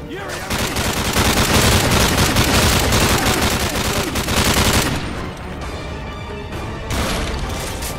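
Dense, loud automatic gunfire from a gun in Call of Duty: Modern Warfare 3 (2011), sustained bursts rattling almost continuously and then easing slightly, with a brief louder burst near the end.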